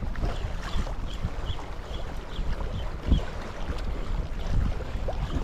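Strong wind buffeting the microphone during ultralight lure fishing from rocks by the water, a steady loud rumbling roar with gusty surges and no talk.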